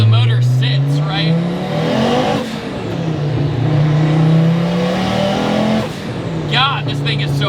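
A VW Passat fitted with a swapped 400 hp Porsche engine and a five-speed transmission, heard from inside as the engine drones and rises in pitch through the gears, with brief dips between shifts.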